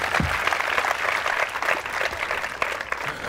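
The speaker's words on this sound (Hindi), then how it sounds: "तालियां बजाइए पहले जोरों से आप।" Audience applause at a college quiz show event, a steady loud wash of many hands clapping together throughout, close and continuous without speech on top.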